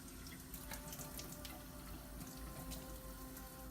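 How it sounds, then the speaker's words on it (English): Face being rinsed with tap water at a sink: a steady, faint rush of running water with light splashes, continuous throughout and with no talking. "you want to give a couple of rinses to the face to make sure you got everything off"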